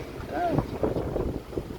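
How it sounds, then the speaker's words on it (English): Wind buffets the microphone on a sailboat at sea in a steady low rumble with gusty swells, loud and close, over a faint churn of water. "It's kind of windy"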